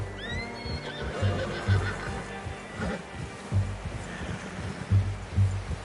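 A horse in a video game whinnies and its hooves clip-clop in an uneven rhythm, the neighs rising loud and close over quieter background sound.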